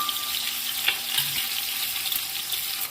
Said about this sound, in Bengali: এই সর্ষের তেলে মাছগুলো আমি দিয়ে দিলাম। মাছগুলো আগে ভেজে নিচ্ছি